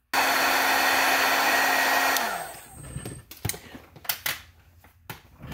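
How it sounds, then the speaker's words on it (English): A heat gun blows a loud, steady whooshing roar while drying a small watercolor card, then switches off with a falling whine, followed by faint scattered clicks and rustles. "I'm going to use a heat gun."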